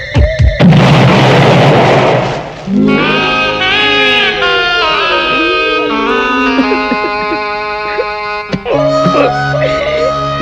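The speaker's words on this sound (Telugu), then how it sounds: "అమ్మో పేలుతాయేమో." A comic bomb blast in a comedy film scene: a loud, noisy burst opens the clip, then gives way to a long stretch of tonal, whistling music with sweeping pitches and a later sharp accent.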